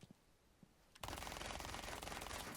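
SMG-12 submachine gun fired at a wall in Rainbow Six Siege, a sudden sustained burst of rapid automatic fire after a second of quiet, loud and continuous until the end.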